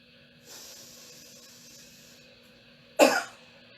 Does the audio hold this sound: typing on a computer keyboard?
no